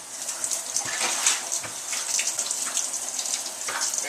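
Warm water runs steadily from a spigot while a clean rag is rinsed, a continuous hissing splash with small shifts as the cloth moves through the stream, nearby and alone.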